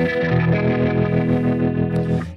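An electric guitar plays through a rotary modulation effect on a HEADRUSH pedalboard, a sustained, thick, swirling chord ringing loud and even before a quick pick noise near the end.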